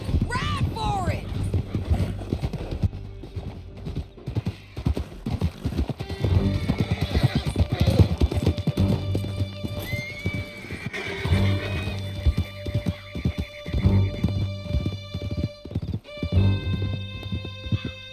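Several horses gallop hard through a canyon with dense, rapid clip-clop hoofbeats and neighing, while riders shout and talk over a music score.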